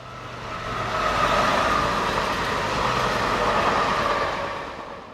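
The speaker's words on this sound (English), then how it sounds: "This is one such example with a train for Issoire" A new diesel commuter multiple unit on a peak-hour service south of Clermont-Ferrand, France, bound for Issoire, rumbles past steadily with a broad engine and wheel roar that swells and holds, close and loud, with no talk.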